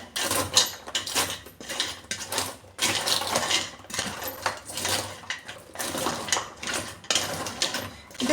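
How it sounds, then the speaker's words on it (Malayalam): A spoon stirs sugar syrup mixture in a pan while making diamond cuts, giving repeated metallic scraping and clinking strokes in a steady rhythm, close and fairly loud, with no talking. "ഇനി ഇതെല്ലാം കൂടെ ഒന്ന് മിക്സ് ചെയ്യാമേ"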